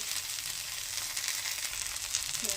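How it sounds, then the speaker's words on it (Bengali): Coriander leaves fry in a pan with a steady, close sizzling hiss, stirred gently throughout and with no voices. "ধনেপাতাটা দিয়ে এবার কিছুক্ষণ একটু নেড়ে নেব"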